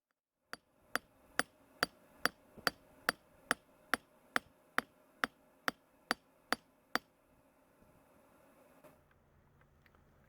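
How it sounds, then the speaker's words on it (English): Hammer blows ring out on an anvil while an old steel file is forged into a patch knife blade, about fifteen evenly spaced, bright metallic strikes in a steady rhythm before the work falls quiet. "we're doing a little forging. We're just moving some metal"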